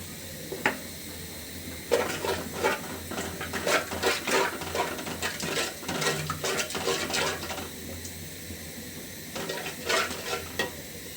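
Ginger garlic paste hits fried onions in a hot pan, sizzling loudly while a spoon stirs and scrapes in irregular bursts, close up with no talking.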